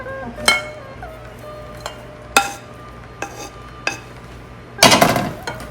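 A utensil scrapes and knocks against a metal vessel while rice puttu flour is mixed with cardamom powder, giving a handful of separate ringing clinks at irregular intervals and ending in a longer, gritty stirring rustle.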